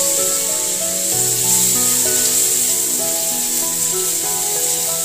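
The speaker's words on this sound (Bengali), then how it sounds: "আমরা এই টুকরোগুলিকে ভালোভাবে ভেজে নিতে হবে।" Pieces of hog plum (amra) frying with dried chili in a pan, giving a steady close sizzle throughout with tonal background music over it.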